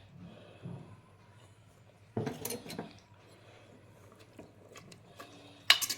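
A metal lid goes down onto a cooking pot of matar chaat in a home kitchen, with a couple of brief clattering clinks and small scrapes against quiet background.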